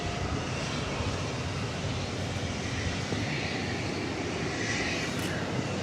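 An American Airlines Airbus A321 arriving at Dallas/Fort Worth: a steady, moderately loud broadband jet rush with a faint high whine, continuous throughout, no talking.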